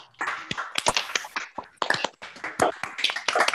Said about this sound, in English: If everyone wants to unmute and give a real applause.